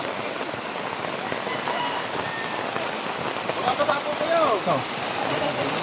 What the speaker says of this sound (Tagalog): Ito lakas yung ulan.